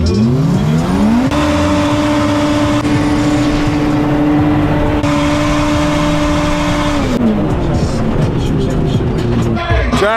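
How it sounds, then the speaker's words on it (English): A drag racing car revs and accelerates hard, its engine note rising in long steady pulls with gear changes and faint tire noise, loud and close throughout. "Drag races were fun"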